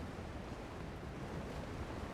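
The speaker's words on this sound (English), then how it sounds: "Also, this area is very windy." Wind and ocean waves in the video game Genshin Impact make a continuous, even rush of surf and gusting air with no pauses and no voices.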